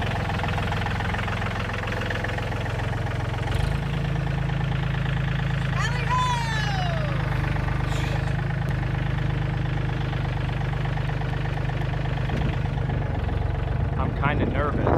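A car engine idles and hums steadily at close range for about fifteen seconds, its low drone rising slightly partway through, with a brief squeak and a voice talking over it.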